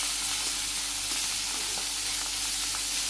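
Fish frying in hot oil in a wok in a Bangladeshi village kitchen, a steady dense sizzle and hiss with small crackles, continuous and close.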